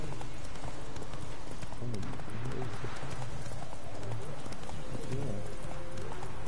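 A horse's hooves clip-clop at a steady trot in The Witcher 3, with rain and ambient game sound beneath and someone briefly talking over it.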